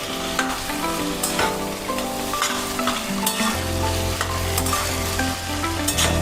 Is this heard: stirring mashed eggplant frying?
yes